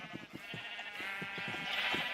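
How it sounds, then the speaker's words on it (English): Sheep in a video game world bleat in a quick string of short, wavering calls, fairly close and moderately loud over a faint hiss, with no talking. "But we've slowly been building up sheep."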